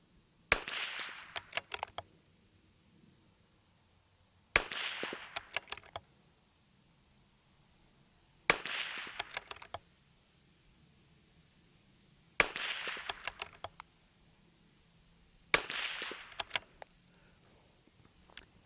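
PRS rifle fired at a distant target, five sharp, loud shots spaced a few seconds apart, each followed by a brief rattle and echo tail, with quiet between them.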